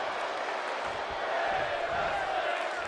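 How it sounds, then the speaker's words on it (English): A wrestling crowd at a live indoor event roars and cheers in a dense, sustained wash of noise that stays loud and steady throughout. "Fans are cheering"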